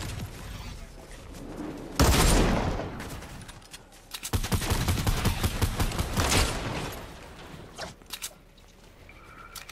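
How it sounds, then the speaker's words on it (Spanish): Rapid gunfire in a shooting video game: a loud burst opens, then after a brief lull dense fast volleys of shots rattle on for several seconds before thinning into scattered single cracks. "Dispara bien rápido ese güey"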